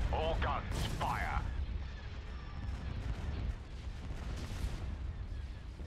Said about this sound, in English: All guns fire.